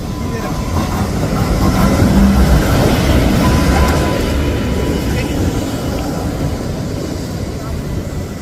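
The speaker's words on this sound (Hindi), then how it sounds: "ये हमारे पीछे जो ट्रेन गुजर रही है ये आज की नहीं है।" A heritage train rolling past on tracks in New Orleans, a steady loud rumble and rattle of cars close by throughout, with a voice talking over it.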